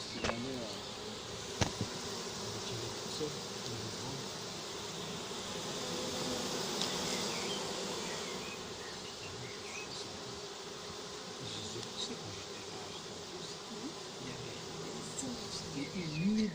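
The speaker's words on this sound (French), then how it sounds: "je pense qu'il y a quelques abeilles qui vont se disperser là-haut" A swarm of honeybees buzzes densely and continuously during a swarm recovery in Viry-Châtillon, a steady close drone with occasional individual bees passing nearer.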